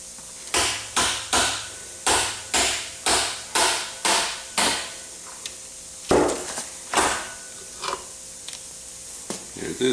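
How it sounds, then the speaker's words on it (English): Repeated sharp, rhythmic knocks and scrapes come from removing the electric starter on a Honda CB450 motorcycle engine, about nine close strikes in a steady run followed by a few scattered metallic taps. "Last part is to remove the electric starter."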